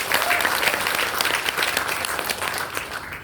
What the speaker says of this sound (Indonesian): Bisa tepuk tangan dulu buat Tuhan